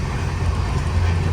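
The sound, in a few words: train running at nearly 130 km/h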